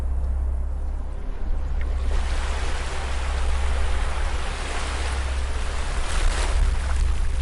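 Steady, continuous wash of ocean surf on a beach, broad and even throughout with gentle swells in intensity, no voices, calm and immersive.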